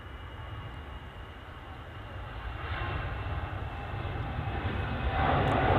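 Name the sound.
EasyJet airliner arriving at Manchester Airport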